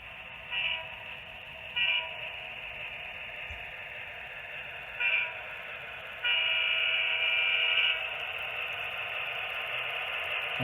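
A model railroad train runs on a home layout, its horn giving short toots and then a longer sustained blast, heard over a faint steady running hum with no talking.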